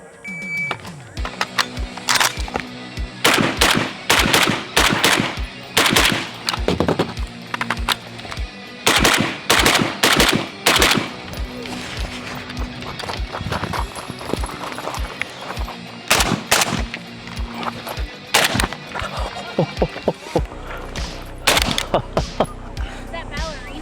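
PSA AK-pattern rifle with a Krink rail and red dot firing at an outdoor shooting range, sharp loud shots in rapid strings and single cracks, some with echoing tails and pauses between bursts.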